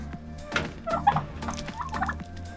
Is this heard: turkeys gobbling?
yes